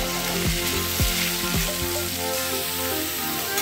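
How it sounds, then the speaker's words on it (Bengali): Soybean chunks frying in hot oil with spices for a vegetarian potato-soybean dish, giving a loud, steady sizzle with a few sharp utensil knocks and scrapes, no voices. "এরপরে আমি এসে যে সয়াবিনটা ছিল সেটা আমি ভালো করে ভেজে নেব"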